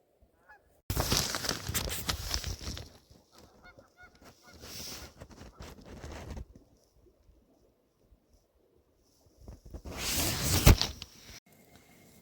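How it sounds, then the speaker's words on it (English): Loud bursts of geese honking come in clusters with quiet gaps between them, close and harsh, with a final noisy flurry near the end, just after 6 a.m. at a campsite near Wells, Nevada. "There's geese out there."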